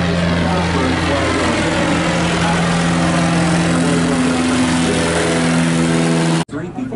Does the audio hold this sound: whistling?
no